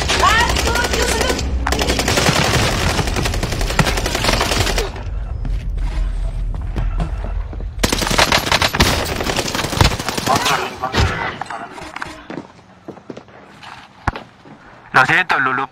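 A video game gun fires long bursts of rapid automatic gunfire, loud and sustained, then pauses and fires again in sparser shots, while a player talks and shouts over it.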